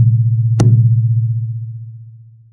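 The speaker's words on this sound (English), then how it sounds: "Listen to the vibration as I tap." A single tap on a Pahu Heiau wooden drum lands over a still-ringing low hum, producing a deep, resonant booming bass that decays gradually, close and without other sounds.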